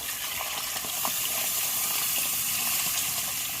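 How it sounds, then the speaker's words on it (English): Hot broth poured into mole sauce in a pan, a steady watery gush with light sizzling and bubbling, close and fairly loud with no talk. "Just go ahead and pour more of that broth in."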